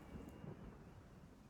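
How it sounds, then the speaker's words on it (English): Low rumble of thunder in the visual novel game Chasing Sunsets, heard during a storm aboard a yacht: a quiet, steady, faint roll with a soft rain-like wash and no voices. "Another rumble of thunder shakes the yacht."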